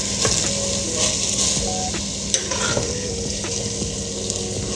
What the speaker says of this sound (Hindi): तो अब इसमें कीमा डालते हैं।